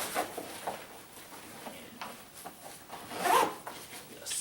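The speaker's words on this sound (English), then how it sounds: "zip it up" A zipper being run along a KUIU Icon Pro hunting backpack, giving close, raspy pulls with a louder stroke near the end, quiet and without any voices.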